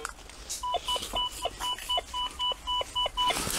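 An XP metal detector emitting a steady series of short electronic beeps in an even rhythm, about a dozen pulses, clear and close.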